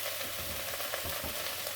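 Leeks sizzle and brown in a hot pan, a steady, fine crackle of frying with faint stirring, close and unbroken throughout.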